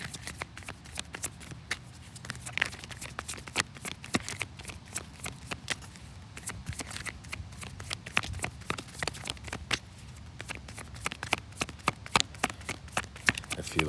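Tarot cards are shuffled steadily for a long stretch, a dense run of crisp riffling flicks and taps, close and continuous, with no talking over it.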